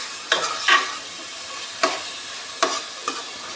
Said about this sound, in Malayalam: ഇതും കൂടെ ഒന്ന് നന്നായിട്ടൊന്ന് വഴറ്റിയെടുക്കുകയാണ്.